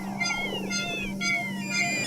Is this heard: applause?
no